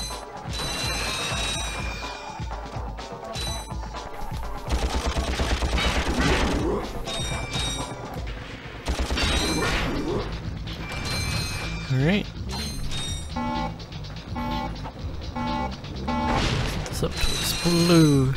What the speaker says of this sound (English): We can turn these bolts around to activate certain things, like this bridge.